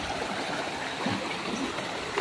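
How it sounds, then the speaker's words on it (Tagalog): A river flows steadily, a continuous rushing wash of water with faint gurgles, even and moderately distant, with no voices. "So dito may ilog."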